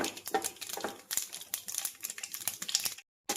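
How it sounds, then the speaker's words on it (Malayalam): Dense crackling and popping of mustard and fenugreek seeds spluttering in hot oil, rapid irregular bursts close up, ending in a brief silence. "ഉലുവായും കടുവായും ഒക്കെ ഇട്ടു നന്നായിട്ടത് പൊട്ടട്ടെ"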